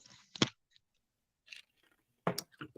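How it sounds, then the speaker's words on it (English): Someone crunching ice cubes in the mouth, a few sharp crunching bursts separated by silence, close and fairly faint. "sorry, I'm chewing on ice"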